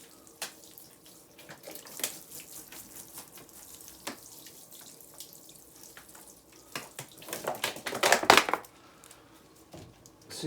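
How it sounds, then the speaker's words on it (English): Water poured onto an indoor fruiting plant in its pot, with irregular splashing and trickling close by, a few light knocks and handling noises, and a louder gush near the end. "then I'm going to water it in."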